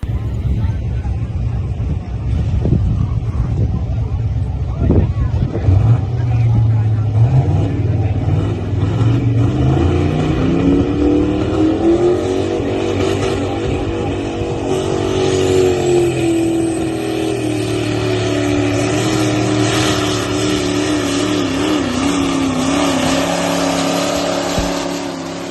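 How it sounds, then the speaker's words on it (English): A loud, close pulling truck engine roars at a truck pulling championship in Nashville, its pitch climbing and holding as it strains down the track, while people talk over it. "it's his favorite truck, and this is at the Pullers Championship in Nashville."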